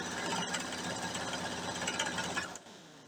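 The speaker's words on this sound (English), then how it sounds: "I was getting ready to sew on the one of the sides." Sewing machine running a continuous fast stitch along the side of a quilt block, a steady close mechanical whirr that stops just before the end.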